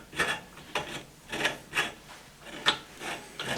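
A new nut being fitted onto a car shock absorber on a Nineties project car, with faint, close clicking and ratcheting scrapes in short, irregular bursts.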